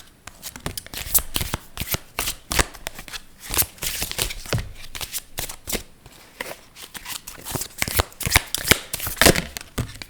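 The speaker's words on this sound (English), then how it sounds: "So I'm going to use this card deck." A tarot card deck being shuffled by hand, with close, crisp riffles and rapid papery flicks coming in irregular bursts, fairly quiet and with no voice over it.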